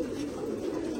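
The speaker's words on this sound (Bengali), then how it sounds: "এই একটা পায়রা দেখুন" A pigeon, shown among high-quality male birds for sale, coos in a steady low murmur that runs for the whole second, with no talk over it.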